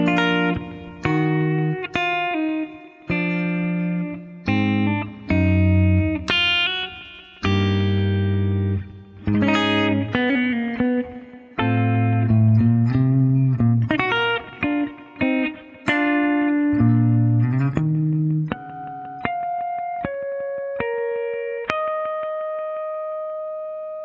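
Electric guitar playing an intro at a slow tempo, a run of picked notes and chords with a processed, effects-laden tone, steady and close, ending on sustained ringing harmonics.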